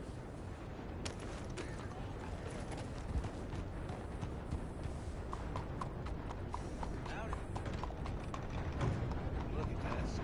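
Horse hooves in Red Dead Redemption 2 beat out a steady, quick clip-clop throughout, with game sounds and voices mixed in.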